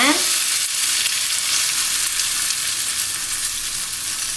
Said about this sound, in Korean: 골고루 섞어가면서 양배추 숨이 죽을 때까지 소분이 볶아주세요.